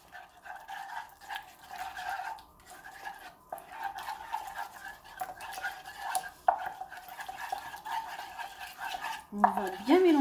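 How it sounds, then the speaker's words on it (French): A spoon stirs a hair mask of sesame oil, honey and cinnamon in a bowl, making soft, irregular scraping and clinking sounds at close range, with a brief brighter clink near the end. "On va bien mélanger."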